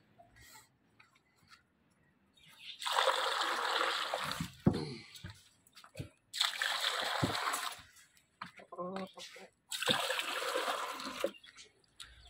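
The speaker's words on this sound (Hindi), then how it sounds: "अब पानी डालते हैं" Water is poured for caged chickens in three separate splashing bursts, each lasting a second or two, with quiet gaps and faint handling noises between them.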